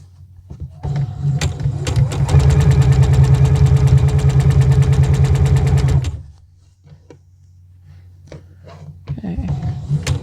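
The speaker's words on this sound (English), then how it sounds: "I'm just going to sew it with the sewing machine." Sewing machine stitching fabric for a dress, a loud steady rapid mechanical chatter running for about four seconds before stopping, with quieter motor hum and handling noises before and after.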